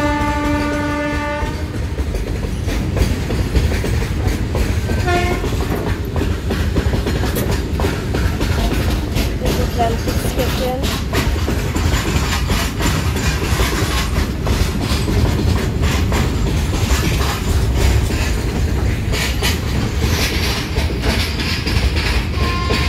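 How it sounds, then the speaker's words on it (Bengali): A freight train rolls through Prantik station, opening with a loud horn blast, then a long, steady rumble and clatter of wagons passing close by for many seconds. "এটা মালগাড়ি যাচ্ছে"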